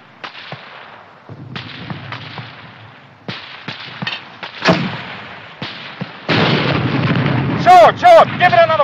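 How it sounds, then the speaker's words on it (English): Mortar shells burst in a 1951 war film battle scene, a series of sharp explosive cracks and thuds at irregular intervals, growing louder and denser toward the end, mixed with whistling shell sounds. "Hurry up with that mortar."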